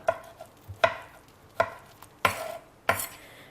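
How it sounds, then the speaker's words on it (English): A small kitchen knife chops through food on a board in five distinct, evenly spaced cuts, each a sharp close knock against the board, with quiet gaps between and no speech. "If you cut it slice by slice, you should be able to go through it within a few minutes."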